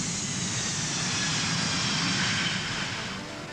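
Jet airplanes roar at Miami International Airport, a loud, steady engine drone holding for several seconds before easing slightly at the end, with no talk over it.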